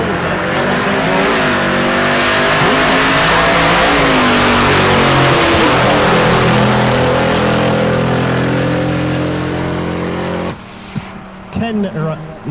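A Volvo drag car with an LSA engine launches down the strip at Tulsa Raceway Park, roaring loud and close as its revs climb through the gears, then cutting off abruptly near the end.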